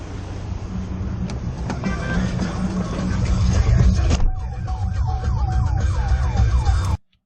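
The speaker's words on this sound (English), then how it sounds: "So his siren kicked back on because he's got his lights and siren on when he put it in drive." A police car's siren wails loudly and close over the engine and road noise of a high-speed chase through East Cleveland, then switches partway through to a rapid repeating yelp before it cuts off abruptly.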